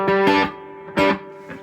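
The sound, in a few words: Cornell Romany 12 guitar amp with reverb at setting 2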